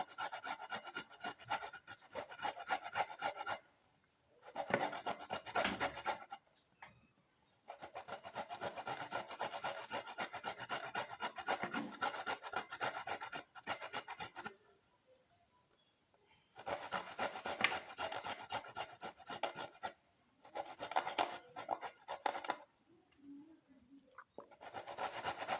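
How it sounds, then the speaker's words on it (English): Ginger and onion are grated on a fine grater for a hair paste, a close, scratchy rasping in steady strokes that come in several long stretches separated by brief pauses, moderately quiet, with no talking. "So like continue grating"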